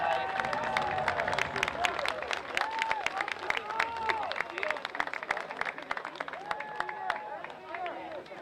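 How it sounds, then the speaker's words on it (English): Crowd applause in the stands at a high school football game honoring seniors, sustained dense clapping with cheering and shouts, moderately distant, under a voice and crowd babble. "please give a round of applause to all our seniors tonight"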